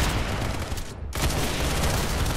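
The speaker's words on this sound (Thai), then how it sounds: "โอ้เสียงปืนดูเดือดมาก" Dense, rapid gunfire rattles in a Roblox shooter game, close and loud, breaking off for a moment before resuming in a continuous volley.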